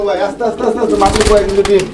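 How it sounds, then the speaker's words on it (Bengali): Pigeons cooing at a fancy pigeon farm, soft throaty murmurs close by with a flutter of movement, while someone talks over them. "বামেরটা হচ্ছে আপনার মাদি কবুতর আর এই মুহূর্তে যেটা ডানে আছে ওটা হচ্ছে নর কবুতর"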